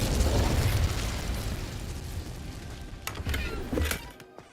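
An Incendio fire spell cast in Hogwarts Legacy bursts as a loud roaring whoosh that slowly fades, with a few sharp crackles near the end.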